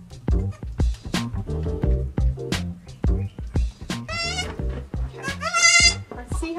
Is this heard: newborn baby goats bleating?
yes